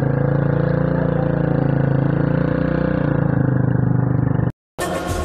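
A steady motorbike engine drone runs continuously at close range, then cuts out abruptly for a split second before resuming with a rougher, noisier tone.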